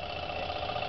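A small solar-powered Stirling engine running at around 150 revs, giving a steady, even mechanical hum with no break or change across the short stretch.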